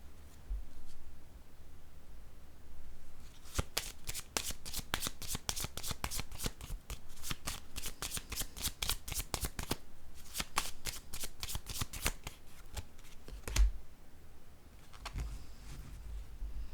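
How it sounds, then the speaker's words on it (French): Playing cards are handled and drawn at a table during a reading: soft rubbing at first, then long rapid runs of crisp riffling flicks in two bursts, a single sharp snap, then quiet rustling, all close. "Je vais piger une carte ici, en cette zone."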